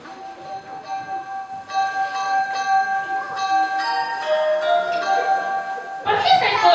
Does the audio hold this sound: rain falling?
no